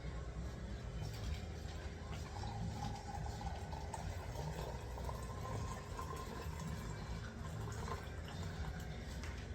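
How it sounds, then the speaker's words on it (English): Fresh brewed coffee pours steadily from a French press into a cup with a soft trickling, gurgling rush. It is quiet and continuous, with a faint hum underneath. "now I'm gonna pour us a cup of coffee"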